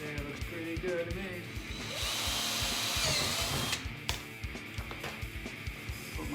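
A power drill bores a hole for mounting a rack case clip, its motor whine rising and steady through most of the stretch, close and loud, with a few short knocks and handling noises toward the end.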